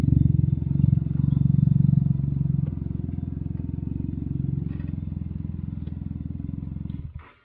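A Can-Am Ryker with a new Carbon Series exhaust held at roughly 4,000 to 4,500 RPM: a loud, steady, throbbing drone close by that eases slightly partway through and then cuts off abruptly at the end.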